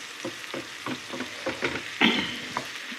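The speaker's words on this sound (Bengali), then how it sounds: "ভালোভাবে নেড়ে দিচ্ছি" Onion frying in a pan for an eel fish curry, stirred with a spatula, giving a close sizzle punctuated by a rhythmic series of scraping strokes.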